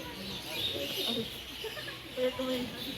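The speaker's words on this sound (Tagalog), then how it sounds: "Yan, yung mga ibon. Maraming klaseng mga ibon ang nandito." Birds at a mini zoo in Pugo, La Union give a few faint, high chirps scattered through steady outdoor background noise, with a person talking nearby.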